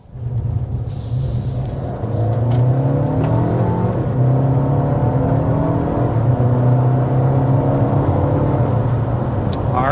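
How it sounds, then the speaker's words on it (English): A 2025 Mercedes GLA 250 with its standard engine under hard acceleration, loud and close from inside the cabin, engine tone climbing steadily through rising sweeps as it shifts up, with a strong continuous roar. "let's go ahead and get started with the hard acceleration."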